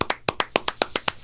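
One person clapping in a podcast studio: about ten sharp, close, evenly spaced claps in quick succession with no talk.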